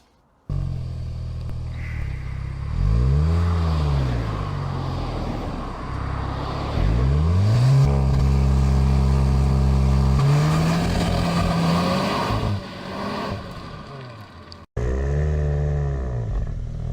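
A 2021 CUPRA Leon VZ2 driving, its engine rising and falling through repeated loud revs and gear changes, with a sustained higher drone in the middle stretch and a brief cut near the end before the engine note resumes.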